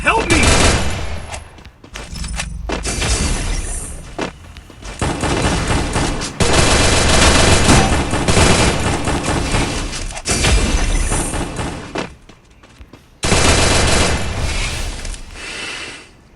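Gunfire in the mobile shooter Free Fire, with loud, dense bursts of automatic shots and heavy impacts in several long volleys separated by brief gaps, mixed with game effects and occasional speech.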